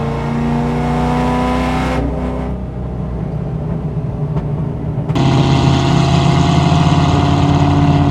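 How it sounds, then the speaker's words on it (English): A loud cammed C6 Corvette engine roars and revs hard, dropping off briefly before surging back into a sustained high-pitched acceleration. "the car is so loud and the acceleration is crazy"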